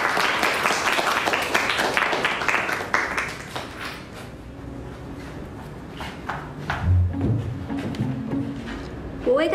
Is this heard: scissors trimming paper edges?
no